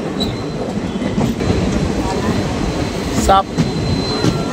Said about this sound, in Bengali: আমাদের ট্রেন ঢুকছে চাপড়াকাটা স্টেশনে